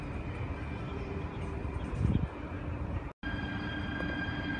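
Trains at Eindhoven Centraal station in the Netherlands, a steady rumble of rolling rail cars with broadband wheel noise, a brief louder surge midway and a sudden momentary dropout before the rumble resumes.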